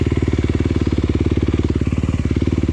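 Dirt bike engine on an off-road GP course at a park, a loud, close, steady rapid pulsing putter held without pause, with no talking over it.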